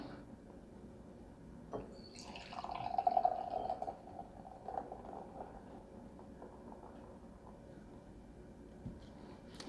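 Southern Tier IPA pours into a tulip glass with a soft, faint, sustained gurgle and fizz that swells briefly and then trickles quietly on for several seconds.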